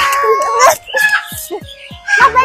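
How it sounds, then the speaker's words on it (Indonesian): Several birds at a zoo call and squawk loudly in overlapping bursts, close by, with a brief pause in the middle before the noisy calls resume. "Oh, burungnya banyak banget nih macemnya. Suaranya juga berisik banget."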